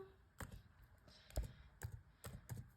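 Keys clatter on a computer keyboard in short, quiet bursts of several taps, close and faint, while someone types a search into Google, with no voices.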